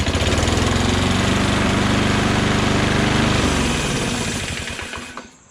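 Craftsman LT2000 lawn tractor small engine running loud and close with a steady throbbing drone, the pitch dropping near the end as it stalls and dies away, with no talking.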